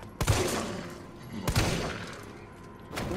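Three gunshots ring out in the Resident Evil 3 Demo, spaced more than a second apart. Each is a sharp, booming report with a short echoing tail.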